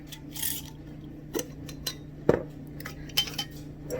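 Small plastic freshie beads rattle and clink as they are shaken with candle dye inside a container, a light continuous scatter of ticks with a few sharper knocks, close and moderately quiet.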